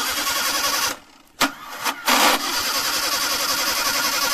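Suzuki Gypsy petrol engine with a starting problem, cranking briefly before catching and settling into a steady, loud idle after a short dip in noise.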